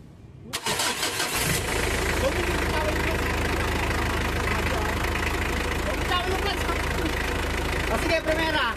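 A Mitsubishi L300 engine cranks briefly, catches and settles into a steady, loud, close idle with a faint knocking texture that runs unbroken to the end.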